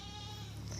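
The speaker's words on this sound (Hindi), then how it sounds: "एक बकरी उधर काफ़ी ज़्यादा चिल्ला रही है" A goat bleats loudly and steadily close by in a village farmyard in Uttar Pradesh, one sustained nasal cry with no talking over it.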